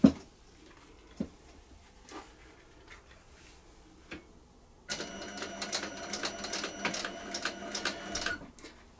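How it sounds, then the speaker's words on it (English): Cylinder arm sewing machine stitching leather for a notebook cover, with an edge guide fitted: quiet handling clicks at first, then a steady, close, rapid mechanical chatter of stitching running continuously for several seconds. "I'm using a cylinder arm machine as it's a very nice working height, and I like this machine for its stitch."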